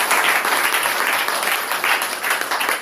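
A church congregation applauds for a brother, dense steady clapping filling the room at moderate loudness without a break.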